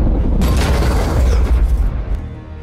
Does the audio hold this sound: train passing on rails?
no